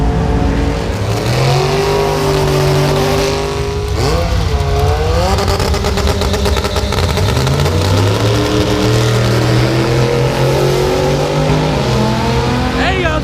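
A 700 whp turbo B20 Honda EK Civic running 16 psi of boost makes a drag strip pass, its engine screaming loudly and climbing through repeated gear changes with tire noise while excited voices shout over it.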